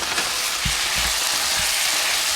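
Maple glaze with butter sizzling in a pan of roasted carrots, a close, dense, continuous frying hiss with a few soft low bumps from the pan.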